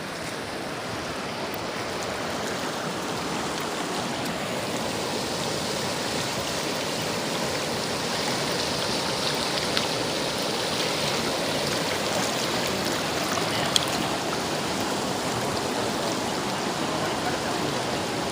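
Floodwater rushes steadily through a residential area, a dense, continuous roar with no breaks, loud and close, with faint voices occasionally beneath the flow.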